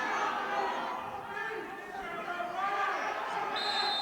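A high school wrestling crowd at East Brunswick versus Piscataway keeps up a steady roar of chatter and cheering throughout, with a commentator talking over it.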